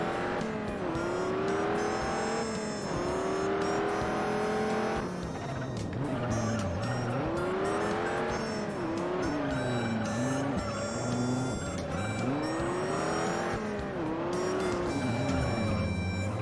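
Race cars lapping a circuit in the Juiced video game, with loud continuous engine drone, rising and falling revs through gear changes, and occasional tire squeal, steady throughout with no talking.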